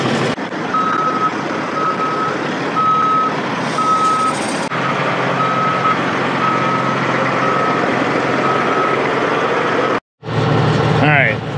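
A bulldozer's diesel engine rumbles steadily while a reversing alarm beeps in a regular series as it drives onto a trailer, with voices talking in the background and a brief silence near the end.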